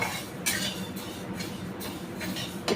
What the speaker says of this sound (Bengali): এবার আমি ডালটাকে ভাজতে দিয়ে দিলাম। ভাজতে মানে একটু নাড়বো